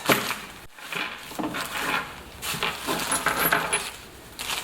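A plastic bag of metal bolts and brackets for a Triumph Tiger Sport 660 handguard kit is handled and shaken, giving repeated close metallic clinks and rustling crinkles in short bursts, fairly quiet.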